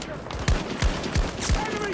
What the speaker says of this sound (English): I'm killing them with a pistol.